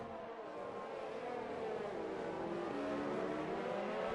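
A Ferrari Formula racing car engine in a racing video game drones steadily and loudly throughout, its pitch climbing slightly as it holds a constant high-revving roar.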